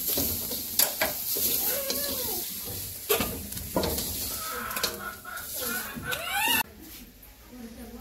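Mixed ingredients frying and being stirred together in a pan in a village kitchen, a continuous close sizzle broken by sharp scraping strokes of a utensil, with voices talking over it and a brief goat-like call.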